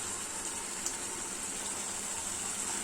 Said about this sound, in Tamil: நம்ம அரைச்சு வச்சிருக்க மசாலா மிக்ஸை சேர்த்துடலாம்